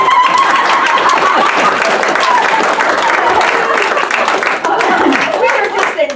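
An audience claps after a talk. It is a dense, steady wash of applause that holds at full strength throughout, with voices mixed into the crowd noise.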